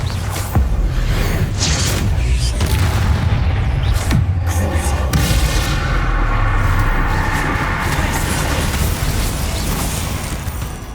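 Bombarda spell blasts in Hogwarts Legacy go off as loud booming explosions with sharp cracks, layered over continuous game effects and rumbling background.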